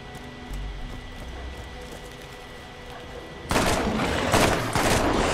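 A burst-fire gun in the video game Borderlands, with rapid clustered shots erupting loud and dense after a quieter stretch of ambient game noise.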